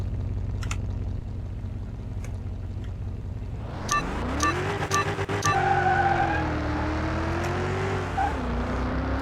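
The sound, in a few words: car driving past and fading away in Car Mechanic 2021 video game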